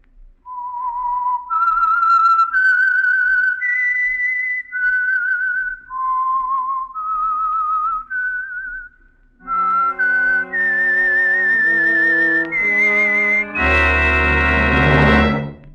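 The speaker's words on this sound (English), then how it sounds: "the signal to listen for is this whistle that identifies the Signal Oil program, The Whistler" A solo whistled melody, the signature tune of the Signal Oil radio program The Whistler, rises and falls in clear held notes, then gives way to orchestral chords ending on a bright crashing swell.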